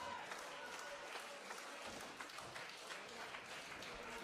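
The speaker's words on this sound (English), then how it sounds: "Crowd trying to pump Core up." A wrestling crowd at a live indie show claps steadily to rally a wrestler, a dense, continuous patter of hands filling the hall with a faint voice underneath.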